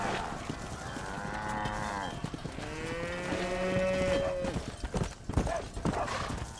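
A herd of cattle in the video game Red Dead Redemption lows with several drawn-out moos, alongside steady horse hoof clip-clops and faint background game noise.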